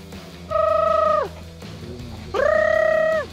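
Voices imitate a loud chicken call in two long, wavering hoots, each rising then falling off, separated by a short pause, over faint background sound.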